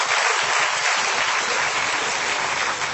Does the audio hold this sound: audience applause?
yes